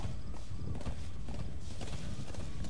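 Horse hooves pounding at a gallop in Metal Gear Solid V: The Phantom Pain, dense and loud with a rough, noisy texture and no clear speech.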